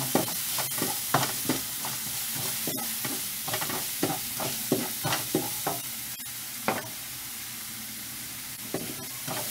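Garlic and onion sautéing in virgin coconut oil, a continuous sizzle broken by repeated close scrapes and clinks of a spatula stirring the pan, with no talking.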